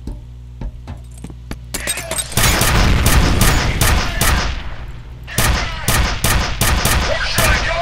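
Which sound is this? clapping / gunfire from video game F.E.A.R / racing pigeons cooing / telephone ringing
gunfire from video game F.E.A.R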